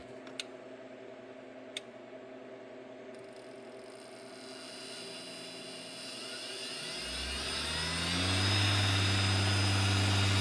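A 1x30 belt sharpening machine starts up and runs. Its motor whine rises over several seconds into a loud, steady high-pitched hum up close, after a few faint ticks in a quiet room, with no talking.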